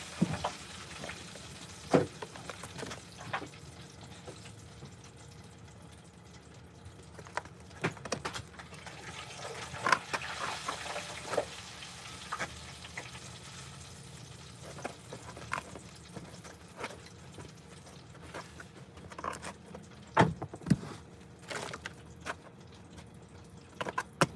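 Overly hot oil sizzles and crackles steadily in a pan, with occasional louder pops and spatters and faint clinks, continuous and fairly quiet.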